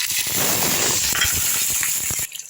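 Green chilies fry in sesame oil with popped mustard seeds, giving a loud, close, crackling sizzle with quick spoon stirs; the sizzle cuts off abruptly near the end, leaving a few light clinks.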